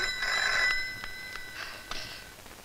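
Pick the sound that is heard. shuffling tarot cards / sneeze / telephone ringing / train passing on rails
telephone ringing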